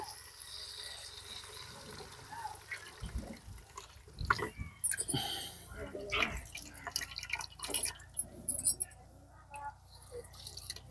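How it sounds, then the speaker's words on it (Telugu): Tamarind juice is poured into a cooking pan, making irregular splashing and dripping liquid sounds that come in uneven bursts after a quiet start, with some muffled voice sounds in the background. "ఇప్పుడు చింతపండు పులుసు పోస్తున్నా"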